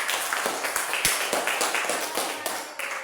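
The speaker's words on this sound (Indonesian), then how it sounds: "Iya, beri tepuk tangan." A classroom of students claps together in a short burst of applause, a run of quick irregular hand claps lasting a few seconds at moderate loudness.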